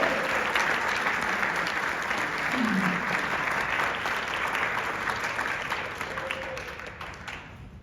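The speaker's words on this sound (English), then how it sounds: "So we'll give them another round of applause" Audience applause for award winners at a charity walk kickoff event, a full steady round of clapping that gradually thins toward the end, with a faint voice briefly underneath.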